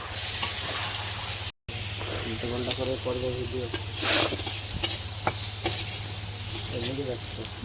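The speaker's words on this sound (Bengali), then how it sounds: "দাঁড়াও ভাজা হোক পেঁয়াজটা।" Onions sizzle while frying in a pan, a steady hiss running throughout with occasional stirring clicks and a brief voice in the background.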